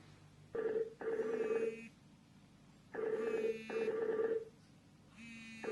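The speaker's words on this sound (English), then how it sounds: "And I initiate a Skype call," Skype video call ringing tone from an Android TV box, repeating in bursts of two-part electronic ring with short gaps between, clear and alone with no talk.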